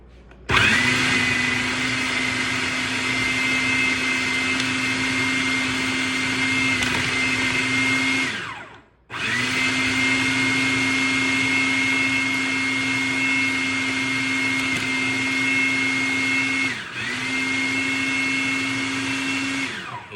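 A food processor whirs steadily as it blends hummus with pepper and salt, a loud continuous motor drone that stops briefly midway, restarts, and dips once more near the end.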